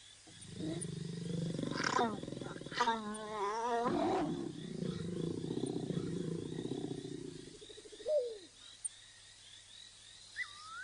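Adult male lions roar in the wild, several deep, rolling roars from the Mala Mala pride near a mating pair, with a narrator's voice running over much of it and faint insects in the background.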